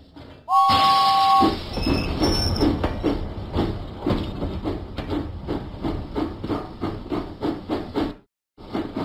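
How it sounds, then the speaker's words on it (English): Steam engine from a Thomas & Friends video game chuffs out of the docks, a steady rhythmic puffing with metallic clatter after a sharp two-tone whistle, loud and close, ending abruptly. "James pumped his pistons and puffed out of the docks."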